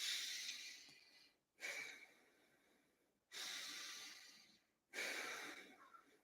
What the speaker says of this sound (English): breathing work, as simple as just long inhales and exhales